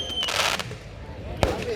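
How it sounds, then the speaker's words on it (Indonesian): Fireworks bursting over Bireuen Regency at the opening of Aceh International Percussion 2019, a public festival crowd event: crackling pops through the first half and one sharp, loud bang near the end, over a steady noisy crowd background. "kembang api yang juga hadir di atas langit Kabupaten Biren"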